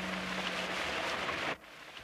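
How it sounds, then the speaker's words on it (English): Steady rain pours down outdoors, a dense, even hiss that abruptly drops to a softer patter near the end of the brief stretch. "Jess looked out at the rain."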